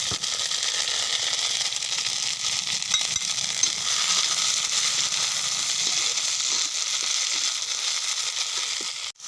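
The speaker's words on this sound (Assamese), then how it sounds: "পিঁয়াজখিনি আছে, ধনিয়া আৰু জিৰা পিছা যিখিনি আছে এইখিনি ফ্ৰাই কৰি আছোঁ" Onions with ground coriander and cumin paste fry steadily in hot oil for a mutton dish, giving a continuous bright sizzle and crackle throughout, close and fairly loud, with no voices.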